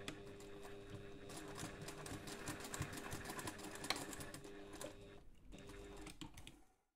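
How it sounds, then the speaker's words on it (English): A home sewing machine basting fabric connectors onto a toiletry pouch runs in a steady, busy mechanical whir with needle clatter for about five seconds, then stops. "take this to the machine and we're going to baste the connectors"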